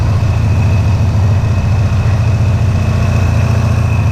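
A motorcycle engine, on a bike fitted with a new water pump seal, runs at a steady idle to warm up, with a loud continuous low rumble and no talking.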